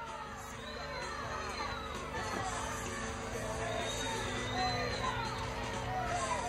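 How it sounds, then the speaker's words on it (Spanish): At a lucha libre wrestling show, an arena crowd produces a sustained, dense roar of booing and jeering mixed with shouts, a constant wall of massed voices at moderate loudness with no single voice standing out. "Abucheo generalizado."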